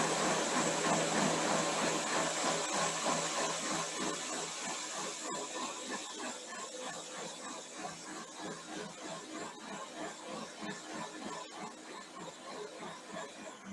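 A blender whirring while making almond and coconut milk: continuous high-pitched motor whine with churning, running steadily for about fourteen seconds and slowly easing in level, with no talk over it.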